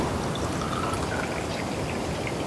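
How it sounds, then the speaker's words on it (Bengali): Water is poured into a container to make a lemon solution for a school litmus-paper acid test, a continuous close, loud pouring splash throughout. "ঠিক আছে, আমি একটু জল ঢেলে দিই, কারণ অনেক লিটমাস পেপার ডুবাতে হবে তো।"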